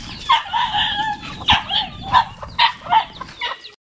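Chickens clucking close by, a busy run of short throaty clucks and squawks from several birds, loud and continuous for a few seconds.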